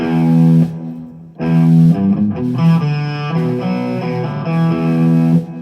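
An electric guitar with a clean, slightly distorted tone plays a string of picked notes and chords at band practice, each one ringing out loudly and then dying away quickly, with short gaps between phrases and no voices.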